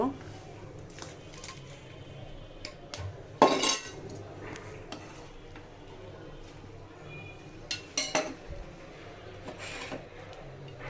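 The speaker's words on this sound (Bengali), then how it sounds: "চিকেনটা এখন ছুটিয়ে স্যুপের ভিতর দিব" A fork scrapes and clinks against a bowl while chicken is pulled apart for soup, with a couple of sharper metallic taps standing out over faint background noise and occasional voice.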